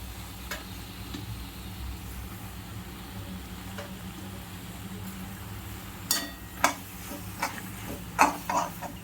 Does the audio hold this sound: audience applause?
no